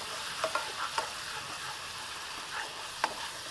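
A sauce of sugar, rum and butter bubbles on a grill burner, a soft low sizzle with a few light stirring clinks, fairly faint and without voices.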